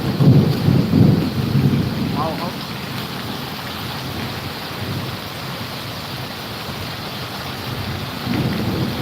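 Steady rain hisses and patters outdoors during a storm in Amreli, with low rumbling bursts at the start and end and a faint voice briefly underneath.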